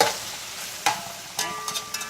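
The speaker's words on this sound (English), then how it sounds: "You see it's frying." Leftover chicken and steak sizzle quietly in a pan, a soft steady hiss broken by a few sharp crackles and stirring clinks.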